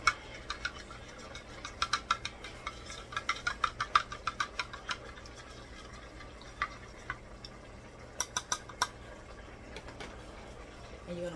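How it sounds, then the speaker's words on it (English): A spoon stirring a gravy mixture inside a cup, with sharp clinks against the sides in quick bursts separated by quieter pauses, close by. "then you just going to stir it up like this inside your cup"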